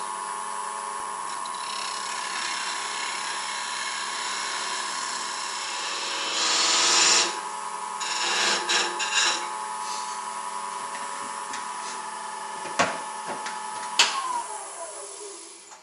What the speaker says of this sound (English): just going to finish shaping the handle and part this off. I'll be using a skew for most of this